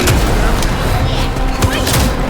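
An enemy fires a gun in Vampire the Masquerade: Bloodlines 2, dense loud shots and impacts mixed with combat noise, with a voice speaking over it.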